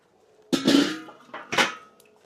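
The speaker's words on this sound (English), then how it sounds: "Go ahead and take that lid off." A metal lid lifted off a charcoal grill where ribs are smoking at 225 degrees, making a sharp clank followed by a scraping metallic rattle and a second clunk, loud and close with no voices.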